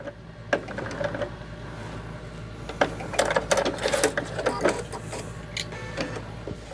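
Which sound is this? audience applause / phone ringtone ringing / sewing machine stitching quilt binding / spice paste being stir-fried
sewing machine stitching quilt binding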